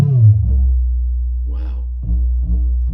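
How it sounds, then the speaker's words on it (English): A Behringer Kobol synthesizer's filter self-resonates with no oscillator volume, giving a loud, deep sustained tone with short swooping pitch sweeps and brief repeated pulses, heard close and alone. "So that is just the filter self-resonating, no volume from the oscillators."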